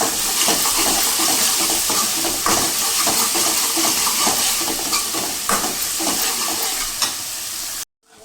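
Masala spices roast and sizzle in a pan while being stirred for a red rajma curry, giving a loud, continuous frying hiss with scraping strokes that cuts off abruptly at the end.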